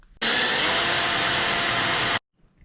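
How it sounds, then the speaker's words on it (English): A power drill with a 5/16 drill bit boring holes for a homemade no-weld grab bar on a Yamaha Blaster, one loud steady whirring burst of about two seconds that starts and stops abruptly. "I'm gonna be using the 5/16 size drill bit to make the holes."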